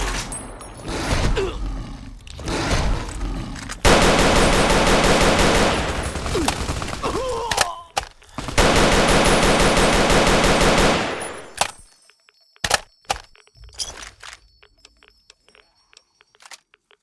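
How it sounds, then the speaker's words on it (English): A bullpup light machine gun in Fallout New Vegas fires long, loud, sustained bursts with short breaks between them, then stops. A few scattered clicks and clanks follow near the end. "Bullpup light machine gun."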